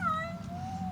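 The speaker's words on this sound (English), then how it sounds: "This cat loves to be held." A single drawn-out meow from a cat, close and clear, with a slightly falling, wavering pitch over low background rumble.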